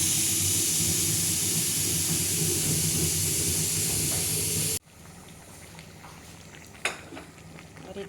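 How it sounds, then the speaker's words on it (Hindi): A pressure cooker of rice is opened and steam hisses loudly and steadily for several seconds before cutting off abruptly, followed by quieter kitchen sounds and a brief metallic clink. "और हम कुकर का चावल खोल देते हैं।"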